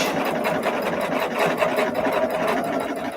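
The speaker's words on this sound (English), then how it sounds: "I'm going to stitch these together real fast." A sewing machine stitching quilt pieces together runs steadily at fast speed, a continuous close mechanical whir with rapid rhythmic needle clatter and no talking.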